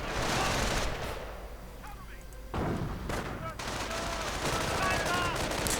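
Rapid gunfire and sniper shots crackle through a WWII strategy game battle, dense bursts with a brief lull midway, while voices commentate over the fighting.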